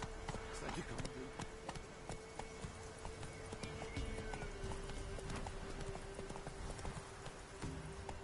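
Roach, Geralt's horse in the Witcher 3 video game, gallops in a steady run of hoofbeats under a low game soundscape, with brief talk.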